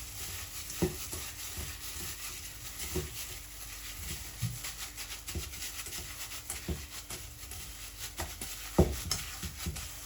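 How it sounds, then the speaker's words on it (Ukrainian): Seasoned pork mince filling for pancakes is stirred in a bowl, giving soft repeated scraping and dull knocks at an irregular pace over a low steady background hiss, with no talking. "І все гарно перемішую."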